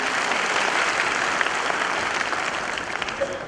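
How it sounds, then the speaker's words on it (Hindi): Steady, dense applause from a large audience at a Lodhi community festival gathering in India, loud and continuous from start to finish with a faint murmur of the crowd beneath. "आप लोग मेरा ताली बजा करके सबके लिए करिए।"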